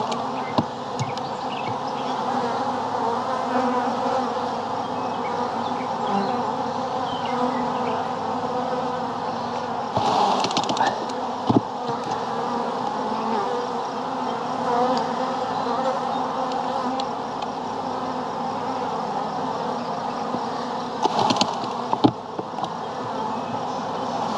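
A dense, continuous buzz of many honey bees fills the air, steady and close, with occasional louder swells as the swarm stirs after being shaken from a hive frame.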